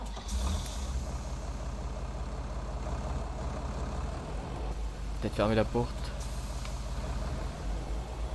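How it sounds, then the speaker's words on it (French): A tractor's engine drones low and steady in Farming Simulator 19, with a brief hissing clatter partway through, while a person speaks over it. "Donc on ramène le tracteur à la ferme."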